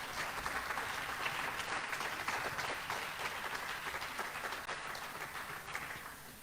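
A church congregation applauds steadily, a dense wash of clapping from many hands that holds level for several seconds before easing slightly at the end.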